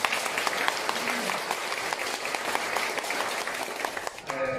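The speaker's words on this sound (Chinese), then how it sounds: "请大家掌声欢迎" An audience at a university lecture hall breaks into sustained applause to welcome a lecturer, dense clapping from many hands that continues steadily before tapering off at the very end.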